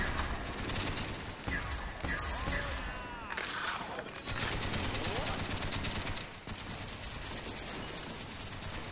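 Sustained automatic gunfire from an RPK light machine gun in the video game Call of Duty: Black Ops Zombies rattles almost continuously in rapid bursts, loud and dense, with brief pauses and some mechanical clatter between.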